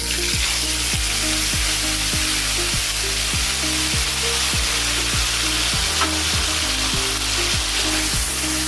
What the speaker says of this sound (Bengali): মশলাটা দিয়ে ভালো করে মশলাটা ফ্রাই করে নিতে হবে